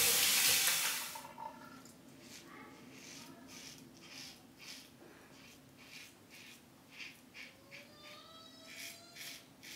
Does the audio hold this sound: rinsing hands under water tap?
yes